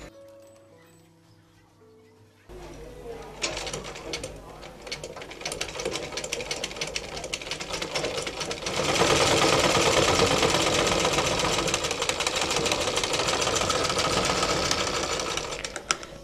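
Sewing machine stitching a zipper onto the back of a half-collar dress, starting after a quiet pause with a few slower runs, then settling into a loud, rapid, steady mechanical whir close by.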